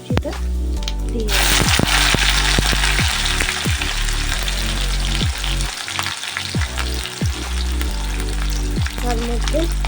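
Chopped onion dropped into hot oil with garlic, black cumin and cumin seeds, bursting into a loud sizzle, then a steady fry with repeated scrapes and stirs of a spatula.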